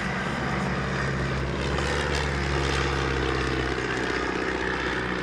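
Tiger 9 team aircraft fly at an airshow, their propeller engines droning loudly and steadily throughout without any break or voice.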